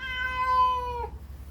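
A cat gives a single clear, drawn-out meow up close, rising and then falling away, with no other sound around it.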